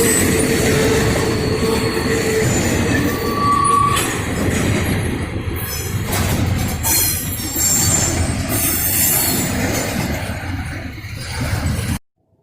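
Freight train wheels squeal loudly against the rails near the Elkhart, Indiana yard, a sustained metallic screech over heavy rumbling and rattling of the cars, close by, cutting off abruptly at the end.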